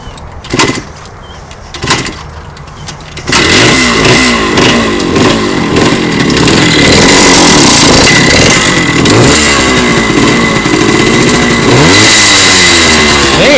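Two sharp knocks, then the engine of a 1981 Yamaha GT80 motorcycle under repair starts up loud and close and revs repeatedly, rising and falling in pitch with a rough, rattling tone.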